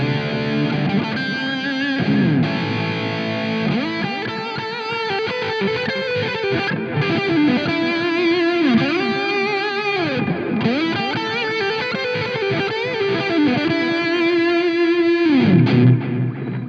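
Distorted electric guitar played through an amp, with Amplitube handling the cabinet simulation, rings out alone in steady chords and bending, sliding notes, loud and close for the whole stretch.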